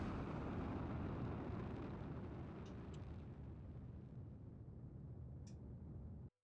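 Rocket engine in Kerbal Space Program (RP-0) roaring at full throttle, a loud continuous broadband rumble that holds steady for about six seconds and then cuts off abruptly.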